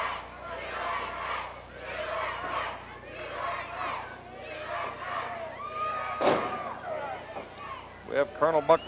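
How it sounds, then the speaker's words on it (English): A pro wrestling arena crowd during a match chants USA in a loud rhythmic chorus that repeats steadily, with general crowd roar and a sharp slam or shout near the end. "Listen to the crowd chant,"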